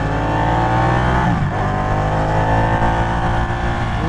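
A superbike engine on a city street roars and revs loudly and close by, with a brief dip in pitch partway through before the engine climbs again.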